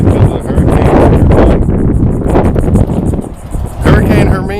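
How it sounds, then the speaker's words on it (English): Strong hurricane wind from Hurricane Hermine buffets the microphone while riding outdoors, a loud continuous roaring rumble with gusty surges throughout and a voice talking faintly beneath it. "We wallowing in this wind right now."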